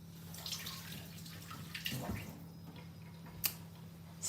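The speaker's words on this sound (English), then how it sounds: "Let me wash my hands." Quiet, close splashing and trickling of hands being washed under a running kitchen tap, with soft irregular water sounds, a steady low hum beneath, and a few sharper clinks and splashes toward the end; no speech.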